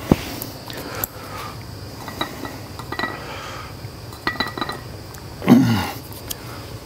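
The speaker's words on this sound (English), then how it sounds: "I'm going to take a spoon and I'm going to stir them up" A spoon clinks and scrapes against a container while stirring an ethanol equalizer fuel mixture, giving light, sparse taps and a brief louder rattle near the end, all fairly close and without talk.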